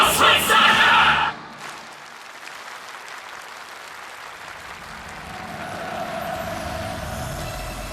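A large crowd cheers and applauds loudly for Kim Jong-un after a performance. The dense roar lasts about a second before cutting off abruptly to a low ambient hum.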